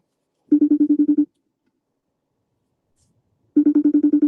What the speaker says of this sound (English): The ringtone ringing, waiting for him to answer.